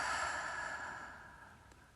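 A slow, soft breath exhaled through the mouth during a meditation and slow-flow yoga session, a single airy sigh that gradually fades over two seconds.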